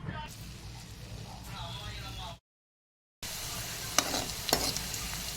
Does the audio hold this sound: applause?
no